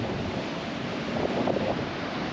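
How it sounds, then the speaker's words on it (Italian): Steady broadband rush of sea waves with wind buffeting the microphone, loud and continuous with no voices. "Sentite questo rumore, questo suono del mare."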